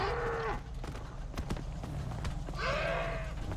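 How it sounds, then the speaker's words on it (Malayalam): A horse in a role-play video game gives a few sharp clip-clop hoof clacks, framed by two brief whinny-like calls, over a constant low background hum. "അയ്യോ എന്റെ കുതിര"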